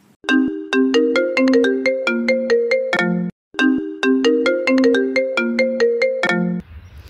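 A melodic phone ringtone plays a bright repeating tune twice, loud and close, with a short gap between the two phrases and no voices.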